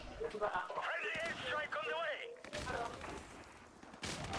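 Gunfire from a Call of Duty 4 Modern Warfare multiplayer match comes as a few sharp bursts of shots, mixed under excited voices talking over the game.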